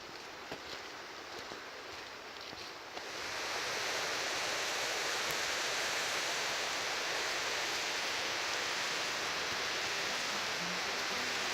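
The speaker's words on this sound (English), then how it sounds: "We're getting closer and closer to the creek" Creek water rushing past mossy rocks in New Mexico, a dense steady hiss that swells louder after a few seconds and then holds constant, with no voices.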